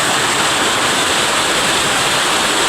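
Water roaring at Uwan uwanan falls, a rocky waterfall, as a loud, steady, broadband rush heard close up and alone.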